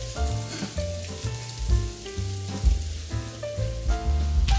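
Corn fritters fry in a pan with a steady crackling sizzle, close and continuous, under a melodic music bed.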